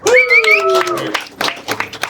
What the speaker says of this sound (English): Y'all give yourselves a round of applause for coming out.